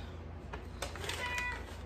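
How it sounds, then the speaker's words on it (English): A pet cat gives a couple of short, faint meows close by in a quiet kitchen, the second one slightly longer, over a low steady background hum. "That's my cat."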